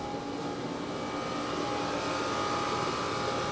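Air conditioner running in a room during casement window sash work, a steady faint broadband hum and whoosh with a thin constant tone, continuous throughout with no talk.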